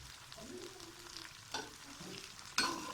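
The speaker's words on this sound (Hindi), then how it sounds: "इसके अंदर अब हम डालने लगे हैं बंद गोभी, इसको हम फ्राई कर लेंगे।" Shredded cabbage fries in about three tablespoons of hot oil for veg fried rice, giving a soft steady sizzle with scraping stirs and a couple of sharper spatula clatters, close and fairly quiet, no talking.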